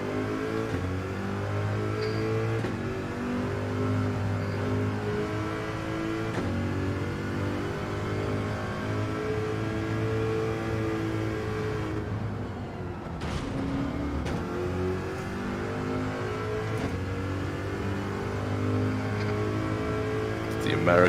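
A Corvette engine in Gran Turismo 7 revs and climbs through the gears, rising and falling in repeated sweeps, with a player talking over the racing game sound.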